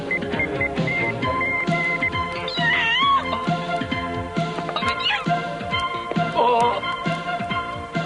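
A cat meows several times in a cartoon scene, its calls rising and falling over busy background music and effects, close and fairly clear, with no talking.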